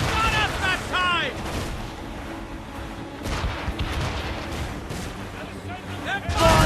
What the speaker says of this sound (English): They're firing, sir! Brace! We've been hit!